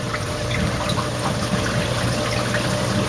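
A Tom Aqualifter pump pushes deionized water from a reservoir into an aquarium sump as an auto top-off, giving a steady, loud gushing and trickling rush with no breaks.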